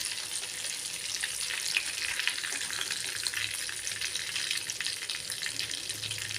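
Marinated prawns deep-frying in hot oil, a dense, even bubbling hiss that holds steady and close throughout, with no voices.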